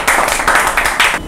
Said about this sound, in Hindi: नवे नालायको बजाओ ताली